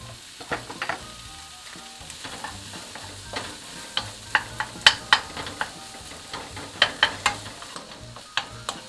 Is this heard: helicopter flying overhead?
no